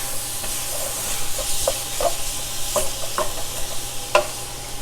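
Ground turkey frying in a greased pan, a continuous loud sizzle and hiss with soft scraping stir strokes at intervals, close and steady.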